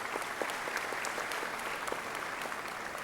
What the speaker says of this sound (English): I ask you to give them an appreciative round of applause